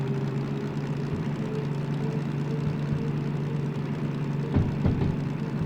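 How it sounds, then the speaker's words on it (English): A diesel locomotive engine in Derail Valley drones with a steady low hum at moderate volume, running continuously near a 30 km/h speed limit. "you just gotta love the sound of that engine"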